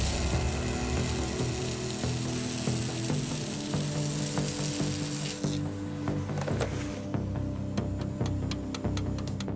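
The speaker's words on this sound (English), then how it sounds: "So I'll probably have to weld a few beads across here to seal it up" An arc welder lays beads across a leaking hydraulic hose fitting in a field repair at a gold mine, a continuous crackling sizzle that gives way to scattered sharp clicks and taps.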